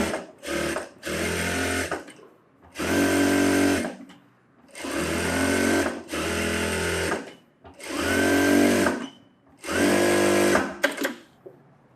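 A sewing machine stitches around the front cup of a blouse, running in about six loud, close bursts of steady whirring separated by short pauses.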